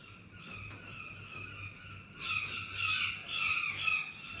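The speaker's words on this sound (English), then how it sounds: "If you can hear birds or animals, then I do apologise." Harsh squawking bird calls ring out outdoors, getting louder partway through, with a faint low hum underneath.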